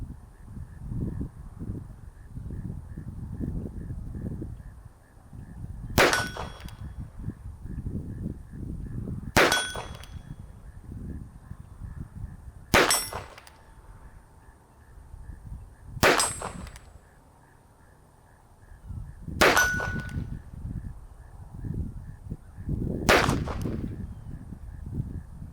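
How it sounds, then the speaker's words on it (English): A Ruger Wrangler Birdshead revolver fires six shots at steel targets from 25 yards outdoors, each sharp crack followed by a ringing metallic clang, spaced a few seconds apart over low background rustle. "Let's see what the little Wrangler Birdshead can do on these steel targets."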